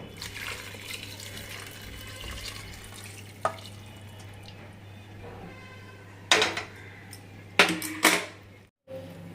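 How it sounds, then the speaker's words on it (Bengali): Hot chicken meat broth poured into a pressure cooker, a low liquid trickle under a steady kitchen hum, broken by a few sharp metallic clinks and clatters of the pot and utensils near the end. "এই যে মাংসের জলটা গরম হয়ে গেছে, এইবার চলো ঢেলে ফেলি।"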